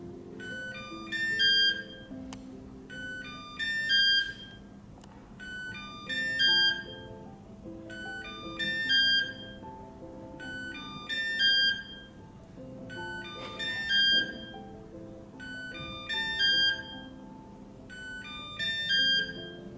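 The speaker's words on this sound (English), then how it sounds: "E20 will keep beeping for 10 times to indicate its location." A Kyvol E20 robot vacuum repeats a bright melodic beeping phrase, about eight evenly spaced bursts of stacked tones recurring every couple of seconds, fairly loud and steady with no talking.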